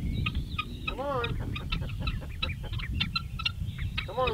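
Ducks on a homestead quack and chatter close by, with rapid repeated calls and a few longer rising notes over a busy outdoor background.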